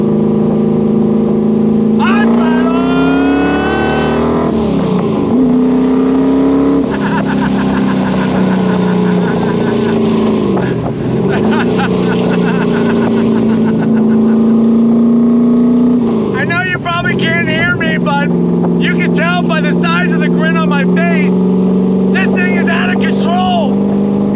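A 1964 Chevrolet Corvette with a 502 cubic inch big-block V8 runs close by, its deep, steady rumble swelling and dipping through repeated revs, with a sharp, crackling burst of throttle near the end.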